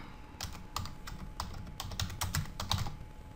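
Someone types a name on a computer keyboard, a quick run of sharp, uneven key clicks close up over a quiet room with no talking.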